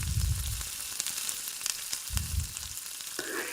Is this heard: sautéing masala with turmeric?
yes